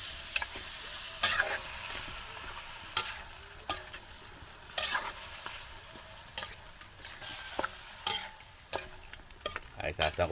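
Pork ribs with cassava sear in a pan for farm-style adobong bukid, giving a steady bright sizzle. A utensil stirs and scrapes through it in repeated short strokes.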